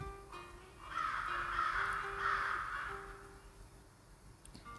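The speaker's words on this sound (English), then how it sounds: "And to my surprise, the cries of crows fill the air." Crows caw harshly in a cluster in a video game, a few birds calling together at moderate distance, swelling and then fading.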